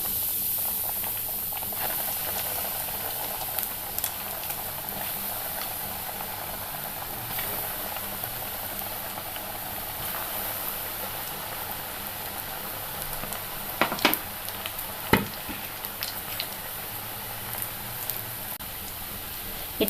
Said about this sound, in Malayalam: നമുക്ക് ഓരോ ബോൾസായിട്ടിട്ട് വറുത്ത് കോരാം